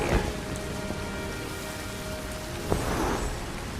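Steady rain falls in the video game Sky, a soft continuous patter at moderate level with a brief sharper splash near the end and no voices.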